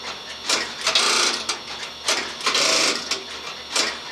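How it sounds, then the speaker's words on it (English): Strowger step-by-step line finder on Bell System Western Electric switching gear, heard as rapid mechanical clattering bursts that come and go roughly every half second to second, steady and fairly close. "you also hear the line finder in the background"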